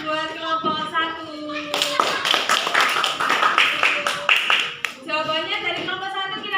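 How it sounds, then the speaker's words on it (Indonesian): Classroom applause for a student group: dense, rapid clapping from many hands lasting several seconds, with children's voices talking before and after. "coba diberi tepuk tangan buat kelompok 1"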